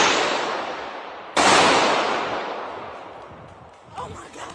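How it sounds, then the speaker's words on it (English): Gunshots echo through a mall during a shooting: a loud sharp crack with a long reverberant tail follows an earlier fading blast, then faint distant sounds near the end. "But here is the footage of the shooting that took place just a few hours ago."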